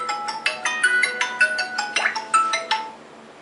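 A melodic phone ringtone plays a bright chiming pattern of repeated tones, moderately loud and alone, before stopping.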